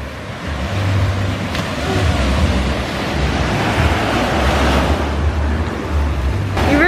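Ocean waves wash onto a beach at night in Yangyang, South Korea, making a loud, continuous roar of surf mixed with wind buffeting the microphone, with no pauses throughout.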